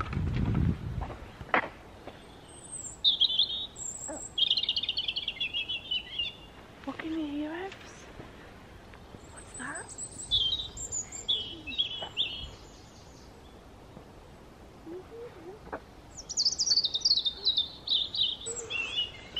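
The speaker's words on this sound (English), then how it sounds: "listen to the birds." Birdsong on a morning walk through woodland at Center Parcs. Scattered bright chirps and short trills come from moderate distance, with quiet gaps, soft movement sounds and faint murmurs in between.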